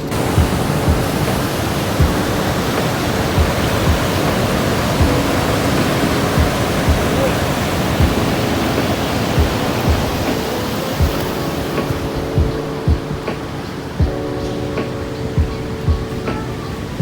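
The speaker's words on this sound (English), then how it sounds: "Ooh, look at that wave. That's gotta be at least 2 meters, I think." Ocean waves breaking on the deep-sand shore of Pantai Mesra beach in Yogyakarta, Indonesia, a steady loud roar of surf with continuous wash and no talk.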